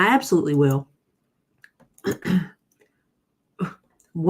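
A few short, harsh coughing bursts, close and moderately loud, separated by brief quiet gaps after a stretch of talking.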